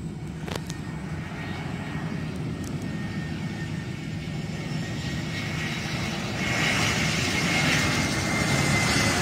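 An airplane coming in to land at KLIA airport, a steady broad engine roar that holds throughout and swells slightly louder toward the end as the aircraft draws closer, with no talk.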